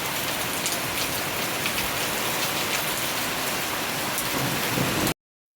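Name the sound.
heavy rain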